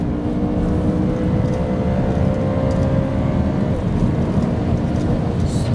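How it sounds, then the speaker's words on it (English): BMW E92 M3 engine pulling while the car is driven, a loud continuous drone with a steady rising tone layered over rumbling road noise, no voices. "It's this engine, man, listen to it."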